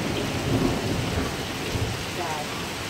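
Thunder rumbling under steady heavy rain during a lightning storm in Kaneohe, a continuous loud wash of rainfall with low rolling booms, heard outdoors without talk.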